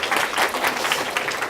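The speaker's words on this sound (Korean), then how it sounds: "박수 한번 해주시죠" Brief burst of audience applause at a university special lecture in Korea, a dense steady patter of many hands clapping, fairly loud and close with no talk over it.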